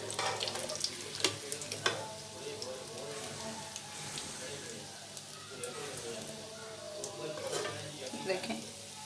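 Chicken pieces in crunchy breadcrumb coating fry in hot oil for a zinger burger, a steady close sizzle running throughout with a few sharper crackles and pops breaking through.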